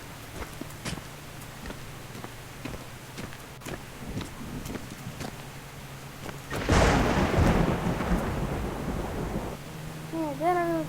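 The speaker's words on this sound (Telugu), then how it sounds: "వర్షం పడిపోతుంది." Rain and thunder in the mobile game Indian Bike Driving 3D: steady rain with scattered ticking drops, then a loud rolling thunder crash and continuing downpour.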